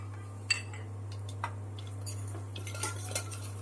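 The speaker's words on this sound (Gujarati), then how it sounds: "એનામાં નાખી દઈ સિંગદાણા." Peanuts tossed into a pan with cumin, cloves, cardamom and cinnamon, then stirred with a metal spoon, giving a few sharp clinks and scrapes over a low steady hum, close and quiet.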